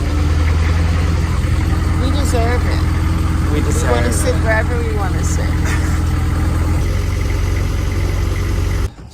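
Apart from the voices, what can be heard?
boat engine idling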